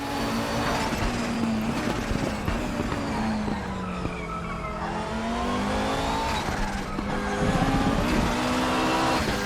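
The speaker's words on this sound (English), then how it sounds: "You hear the tyres squealing through the first part of that chicane then." Canhard R52 race car in RaceRoom Raceway Classic video game, engine droning steadily with shifting pitch as tyres squeal through a chicane, continuous and close with no talking.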